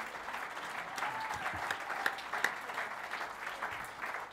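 Steady applause from a concert audience at a live music performance, moderately distant and even, with occasional sharper individual claps poking through.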